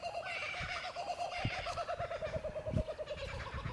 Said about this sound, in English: These kookaburras are very loud.